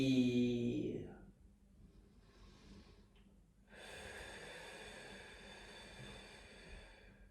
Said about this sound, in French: Allez, périnée, j'expire.